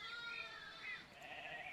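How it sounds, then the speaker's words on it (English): Sheep bleat in long, wavering, nasal cries, two or three calls running into each other, heard alone and fairly quiet for a children's farm story. "Three Little Sheep."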